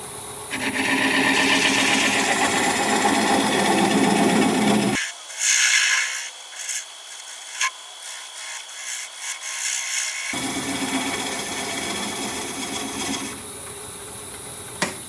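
Olive wood turned on a lathe with a gouge gives a steady close scraping rasp that stops midway for a few seconds of quieter rubbing and shifting, then resumes.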